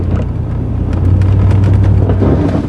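A lightweight pickup truck fitted with a poly plow pushes snow on a windy day, a loud close steady engine drone that swells slightly as it works, with no talking.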